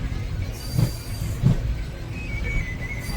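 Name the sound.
train running on rails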